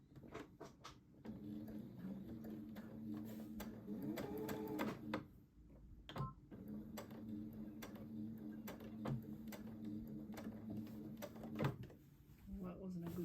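A sewing machine back stitches in short bursts, a close mechanical hum that stops and restarts several times, with clicks and handling noises between runs and a person talking quietly over part of it.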